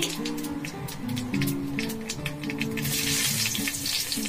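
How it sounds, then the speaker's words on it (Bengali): Nigella seeds crackling in hot oil in a heated pan for a fried red amaranth dish, a busy bright sizzle that builds louder toward the end over a low hum. "তেলের মধ্যে একটু কালো জিরে ফোড়ন দিয়ে দিলাম"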